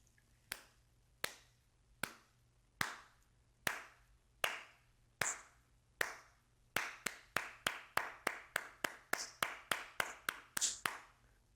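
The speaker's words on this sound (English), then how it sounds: "Let me just try some claps" Single hand claps aimed at a sound-sensitive Rossetta galaxy projector, sharp and close, starting as slow spaced claps and speeding into a rapid, steady run of about two dozen.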